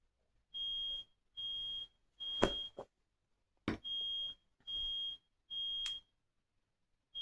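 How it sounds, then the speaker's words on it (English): A smoke alarm emits a regular series of shrill high beeps, about one per second, with a couple of clunks in between. "My smoke detector's just gone off again."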